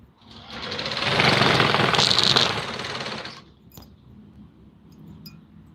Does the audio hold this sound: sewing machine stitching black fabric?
yes